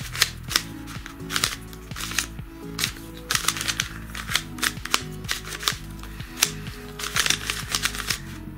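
A large YuXin 3x3x3 treasure chest Rubik's cube being turned rapidly, with dense bursts of clacking plastic layer turns in uneven runs, close and fairly loud, with no voice.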